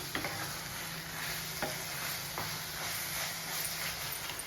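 Bread slices frying in ghee in a pan for double ka meetha, giving a steady close sizzle with a few light scraping clicks from stirring, no voices.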